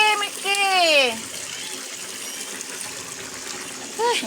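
Water gushes into a container, a steady rushing fill heard up close, with a high voice briefly calling out at the start and again near the end.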